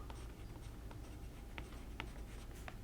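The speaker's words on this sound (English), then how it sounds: "I might actually write it on the cover" Pen or marker scratching across a journal's cover in short strokes with brief pauses, quiet and close, over a steady low background hum.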